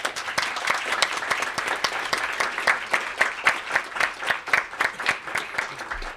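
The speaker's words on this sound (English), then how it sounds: "Let's give them a round of applause" A seated audience at a National Press Club panel on repression of expression in the Mideast applauds its panelists: dense, steady clapping from many hands that stays full and even for several seconds, with no voices over it.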